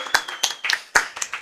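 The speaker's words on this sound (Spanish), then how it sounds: "Un aplauso para esos matrimonios que ahora duran así." Brief scattered applause from an audience at a live comedy show, with a few sharp, uneven claps rather than a full ovation, moderately close.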